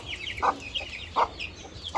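Hens of Madagascar and Japanese breeds cluck nearby in a few short, distinct calls spaced apart over quiet farmyard background.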